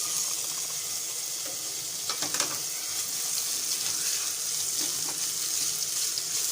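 Green chilli, grated ginger and cumin sizzle in hot oil in a home kitchen pan, a steady bright hiss with a few crackling bursts, close and continuous with no talk.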